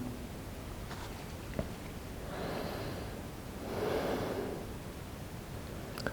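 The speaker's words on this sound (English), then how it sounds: "Long deep breath, inhale." Two long, slow breaths during a yin yoga session, each a soft airy swell of a second or more, the second fuller and closer than the first, with quiet room noise between and no talking.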